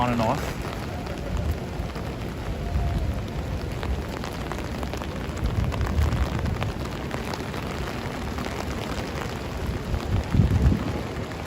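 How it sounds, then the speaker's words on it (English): Heavy rain pours steadily over Manhattan, New York City, on a stormy Tuesday night, a dense, even hiss with low rumbling swells from nearby traffic or wind, with a voice talking faintly underneath. "it is raining pretty hard"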